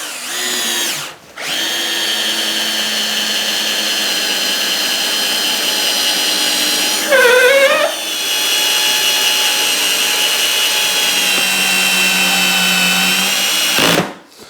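A Festool CXS cordless drill driver bores through a block of wood with a loud, steady high whine that pauses briefly near the start, strains for a moment midway and cuts off at the end.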